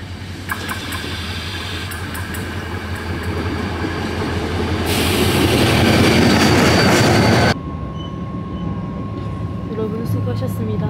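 A train rumbles along with steady wheel noise, growing louder and rougher before dropping suddenly to a quieter interior hum with a faint tone, and a voice is heard speaking over it.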